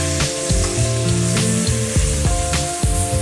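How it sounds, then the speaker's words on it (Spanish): Beef searing in a pan for a barrel-cooked stew, a steady broadband sizzle with a few sharp scraping clicks as the meat is moved, close and fairly loud with no talking. "Lo que vamos a hacer es sellar la carne para que no pierda tantos jugos en la preparación."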